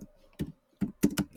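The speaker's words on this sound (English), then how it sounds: "you start by typing in your name" A computer keyboard is typed on while a name is entered, giving a few clicky keystrokes in short irregular bursts with brief pauses between, close and clear, with no talking.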